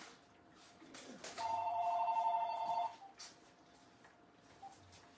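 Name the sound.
phone ringing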